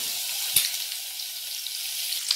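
Egg and chopped onion frying in a pan for a homemade hamburger, giving a steady close sizzle with a sharp crackle pop near the start and another near the end.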